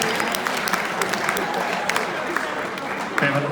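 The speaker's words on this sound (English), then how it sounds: "You can give yourself a round of applause." Seniors at a school senior meeting give a round of applause, a steady patter of clapping from a crowd that carries on for a few seconds before a voice cuts in at the end.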